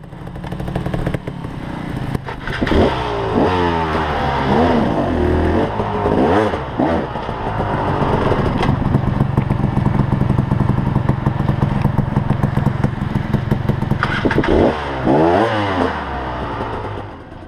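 A trials motorcycle climbs a steep hill on an extreme adventure ride, its engine revving hard and close in repeated surging bursts with clattering over a continuous throaty drone.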